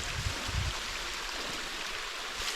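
Water rushes steadily down a creek cascade along Findon Creek, a faint, continuous broadband wash with a few soft low thumps near the start and no voices.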